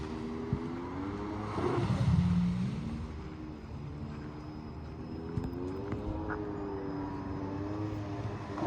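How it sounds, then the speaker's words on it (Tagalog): A jet ski engine on Brockman Lake in Western Australia, a steady far-off motor drone with wavering pitch that swells briefly, heard across open water with no talk. "Yan, may nag-jet ski."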